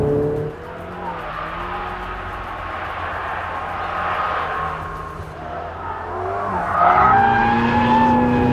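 A Ferrari 488 GTB's turbocharged engine pulls hard under acceleration, a loud sustained roar with rising pitch and a shift near the end, mixed with tire noise and no speech.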